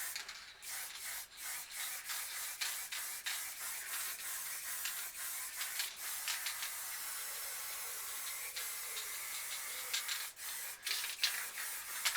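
A can of black spray paint sprays over a recycled canvas in a long run of close, hissing bursts separated by brief stops, continuing steadily throughout without any talk.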